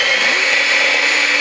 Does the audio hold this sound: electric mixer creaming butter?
yes